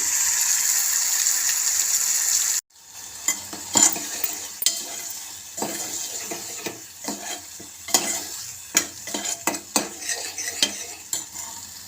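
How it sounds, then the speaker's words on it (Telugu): Ground green chilli paste sautés in a pot for a raw-mango and moong dal stew: a loud hiss at first, then a run of close spoon scrapes and metal knocks with a softer sizzle underneath, and no talking. "గిన్నెలో వేసుకొని బాగా మగ్గించుకోవాలండి పచ్చివాసన పోయేంత వరకు మగ్గించుకోవాలి"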